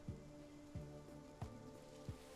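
Steady rain falling in the video game Tukoni: Prologue, a soft continuous hiss punctuated by a few evenly spaced low thumps and a faint tonal hum underneath.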